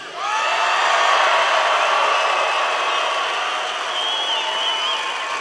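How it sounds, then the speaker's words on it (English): A large crowd at a political rally in Billings, Montana cheers and applauds loudly, a sustained roar of voices and clapping that stays full and dense throughout, with no single speaker standing out. "This crowd is all here for you. And what a crowd it is."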